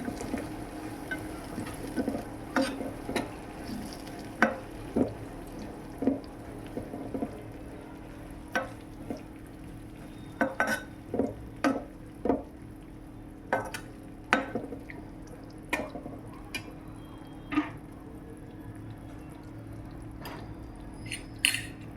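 A spoon stirs green chilli sauce into paneer chilli in a pan, giving a series of faint, irregular scraping clicks over a soft steady sizzle, with no talking.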